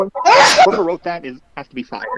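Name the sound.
sneeze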